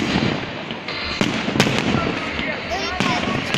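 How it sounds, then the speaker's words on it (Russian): Fireworks bursting during a city day celebration display in Tyumen, with repeated sharp bangs and crackling showers close overhead, continuous and loud, while people talk over the explosions. "Это один из самых больших салютов"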